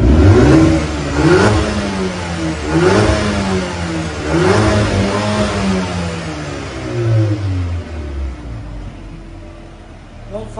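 A 2019 Mercedes-AMG A35 Premium Plus 4Matic engine revs loudly and close in several rising and falling sweeps, crisp and throaty, easing off toward the end.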